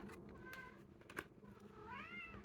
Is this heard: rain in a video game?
no